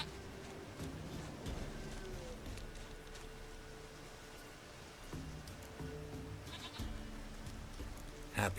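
A goat in The Witcher 3: Wild Hunt bleats in several wavering calls over soft ambient game sound and faint background noise.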